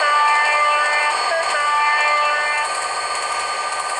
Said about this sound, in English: So it really took me more than one lap just to get the train going at full speed.